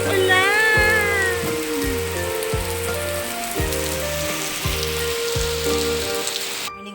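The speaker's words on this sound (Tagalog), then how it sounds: "Ang lakas ng ulan." Heavy morning rain pours steadily in a continuous hiss, with a repeating low melodic tone pattern running through it.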